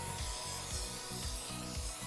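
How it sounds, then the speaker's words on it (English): Non-stick food spray hissing onto a cookie pan in a home kitchen, coming as a few short bursts spaced about half a second apart, close and steady, with no talking. "we're just using some non-stick food spray to spray our pan here where the cookies are gonna go"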